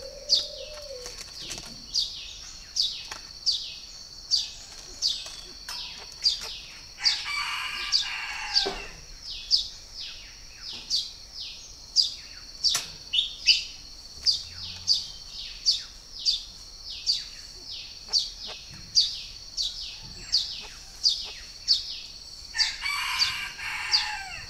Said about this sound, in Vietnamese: Đây là giống chim đa đa thuần, nuôi từ nhỏ nên nó cũng rất là thuần.